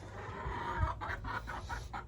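Hens on a homestead cluck in a quick series of short, breathy sounds nearby, over a steady low background hum.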